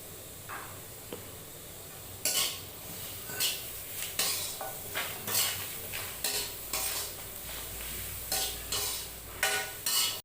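Shallots, garlic, chili, galangal, lemongrass, kaffir lime leaves and coriander root are dry-roasted with a little salt in a pan for tom yum. A spatula scrapes and stirs in a steady rhythm over a soft sizzle, close up and with no talking.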